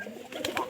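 A pigeon coos briefly and close by, a few soft throaty warbling notes heard alone with no talking.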